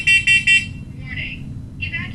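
A smoke alarm under test gives three loud, shrill beeps in quick succession, followed by softer electronic chirps from another detector over a low background rumble.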